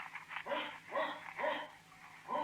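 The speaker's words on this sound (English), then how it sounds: "What's with that dog?" A dog barks faintly in the distance in a series of short, spaced yelps and barks over a quiet background hum.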